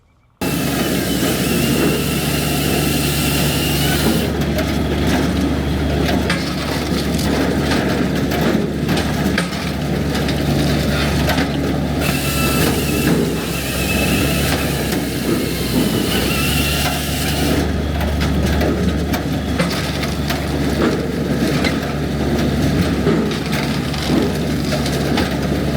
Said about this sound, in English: we'll fire up the disc cleaner and show you guys what we can do